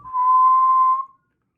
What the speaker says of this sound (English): it sounds like my actual whistle